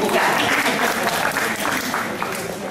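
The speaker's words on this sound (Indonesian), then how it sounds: "Tepuk tangan kalau buka." Applause at an Indonesian ceremony where a painting is presented to Sukmawati Soekarno Putri, a dense, loud, sustained roar of many hands clapping that runs through the whole moment.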